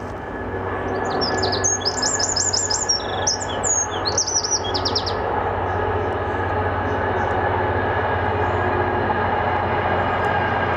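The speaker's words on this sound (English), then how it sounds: "Train comes along just at the wrong time." A train passes on a railway beside a countryside walk near Rushmere, a steady low rumble filling the scene while birds chirp over it early on.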